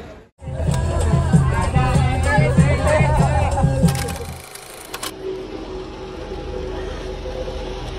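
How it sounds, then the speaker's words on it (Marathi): A busy crowd at Jejuri temple makes a loud, rhythmic hubbub of voices and movement that fades to a quieter murmur partway through, with people talking close by. "हे बघा खूप गर्दी आहे, खूप म्हणजे खूप गर्दी आहे इथे।"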